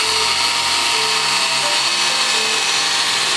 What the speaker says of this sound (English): We have some marks for the back plate where we have to grind off the paint to weld it on.